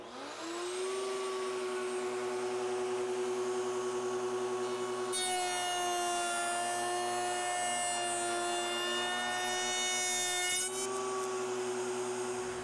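A router spinning a bit as a shiplap board is pushed through with a miter gauge, a steady high motor whine that turns harsher and brighter for several seconds while the bit cuts, then settles back to idle.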